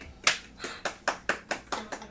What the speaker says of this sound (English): The smattering of applause.